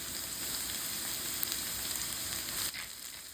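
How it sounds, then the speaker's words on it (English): Shallots and white onions sizzle with potatoes in a hot pan, a steady close hiss and crackle of frying that holds even throughout with no talk. "Now I'm going to add some shallots to the potatoes, add a nice little flavoring along with some white onions."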